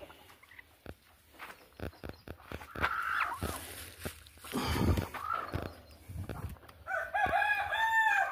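Domestic hens kept for brooding on eggs cluck intermittently nearby, with short scattered calls and a louder drawn-out crow-like call near the end over a quiet yard background.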